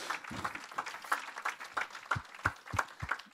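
Applause and rhythmic clapping from a church congregation acclaiming the Lord, a steady patter of many hands with sharper beats falling into a pulse toward the end, moderately loud and with no talking.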